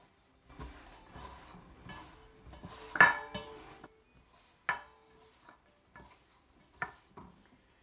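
Soda bread dough being mixed in a bowl, with soft scattered stirring and scraping clatter, a couple of sharper knocks against the bowl, close and fairly quiet with no talking.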